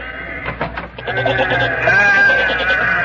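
Several sheep and goats bleat close by in overlapping, wavering calls, loud and continuous with no talking.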